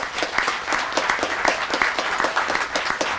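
Applause for a school team and its coach at a board meeting, steady dense clapping from a crowd indoors, fairly loud and continuous throughout.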